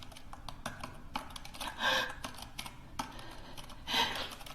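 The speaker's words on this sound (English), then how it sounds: "The typing gets more aggressive and suddenly stops" Someone typing on a computer keyboard in an office in a horror film, rapid close key clicks building in bursts with heavier clattering flurries, no voices.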